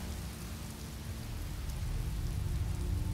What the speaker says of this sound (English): Yeah, okay, the rain's going away.